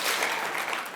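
An audience at the 78th annual NCS Reuben Awards in San Diego applauds the Andrews McMeel team, a short, dense and steady burst of clapping heard without talk.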